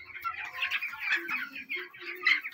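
Chickens in a yard, a flurry of soft clucks and chirpy calls close by, irregular and overlapping for a couple of seconds.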